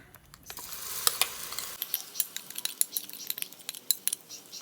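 Spoon stirring banana and egg batter for kaya pola, a sweet Kerala snack, producing a run of soft scraping and light clinking taps against the bowl, fairly close and steady, with no one talking.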